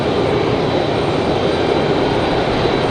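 A Lufthansa jet airliner at Raleigh-Durham airport gives off a loud, continuous, even engine roar, close and steady, with no voices.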